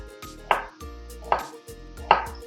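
Three evenly spaced knife chops through an onion onto a cutting board, crisp and close, with a short pause between each stroke.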